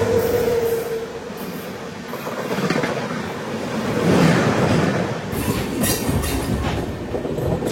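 A train passes Kadiyam railway station, its wheels clattering and rumbling steadily over the rails with a broad roar that swells and holds, heard without talk.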